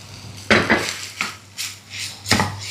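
Cooked pasta tossed into a prepared gravy in a pan, with several distinct clanks and scrapes of a spoon against metal spaced across the stretch, close and moderately loud, with no talking.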